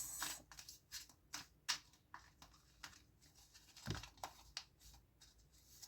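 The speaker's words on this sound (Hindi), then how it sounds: "So let me just shuffle the cards." A deck of cards is shuffled at a tarot-style reading, a close, quiet run of riffling flicks and papery snaps in uneven bursts, with no talk over it.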